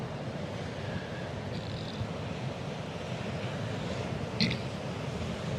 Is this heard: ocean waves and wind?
yes